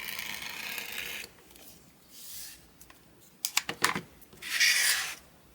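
A rotary cutter slices fabric for a cross stitch pillow, giving soft, close scraping strokes with a few quick clicks and rustles between them, fairly faint and with no talk.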